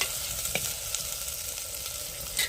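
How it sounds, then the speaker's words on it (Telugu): Onions with ginger garlic paste frying in a pan, a steady quiet sizzle with a few soft clicks of stirring. "అల్లం తెల్లగడ్డ పేస్టు ఎర్రగడ్డలు అయితే వేగినాయి కదా"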